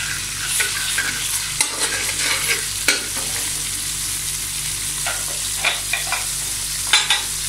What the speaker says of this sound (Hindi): अदरक को फ्राई करेंगे। इसको फ्राई करेंगे थोड़ा सा